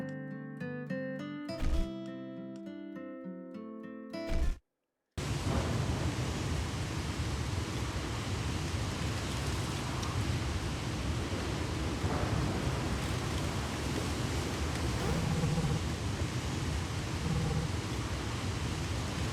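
Stormy seas in the sailing game Horizon's Gate: after a short musical phrase and a brief cut to silence, a steady loud roar of rain and wind takes over, with low rumbles of thunder rolling beneath it throughout.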